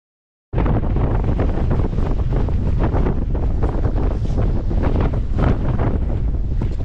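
Loud, continuous wind buffeting the microphone on a hike to Blueberry Knoll, a roaring rumble that starts abruptly and stays strong throughout with no voices.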